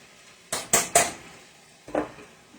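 Black beans tipped into a pot of taco filling, several sharp metallic clanks and scrapes in a quick burst, then a softer knock a moment later, close and clear with no talk.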